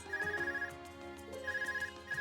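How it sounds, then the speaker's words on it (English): An Arcus communication device rings in the video game Trails of Cold Steel, a clear electronic ringtone repeating in short melodic bursts against quiet game background music. "Is that your Arcus ringing?"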